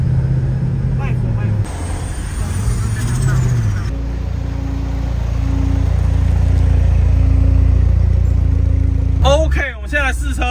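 A Nissan S14 on its first test drive, still untuned, hums and revs up and down as it shifts. Steady road noise underneath and a few brief chirps near the end.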